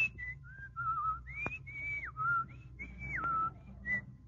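A person whistles a wandering melody up close, notes sliding between pitches, with a short line of speech mixed in.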